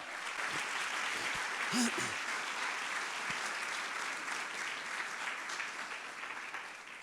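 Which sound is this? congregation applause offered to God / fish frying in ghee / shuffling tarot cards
congregation applause offered to God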